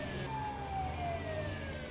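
Ambulance siren from a Turkish ambulance mod in the video game GTA 5, a wailing tone sliding downward over a low engine rumble, moderately loud and steady.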